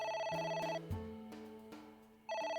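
A phone rings in the video game AI: The Somnium Files, a bright electronic ringtone with a steady melodic tone, starting, pausing and resuming, fairly quiet with no talk over it.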